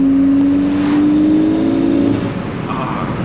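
A Volkswagen MK6 GTI revs loudly at night, its engine note climbing steadily then easing off with a faint whine, close and dominant.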